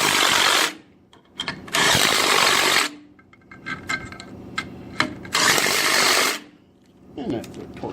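A power tool tightens motor mount bolts with a washer in three loud close bursts of whirring and rattling, separated by quieter gaps with small clanks.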